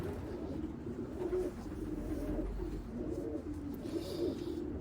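An imported racing pigeon coos in soft, repeated rolling phrases, close and fairly quiet over a low background hum, with no one talking.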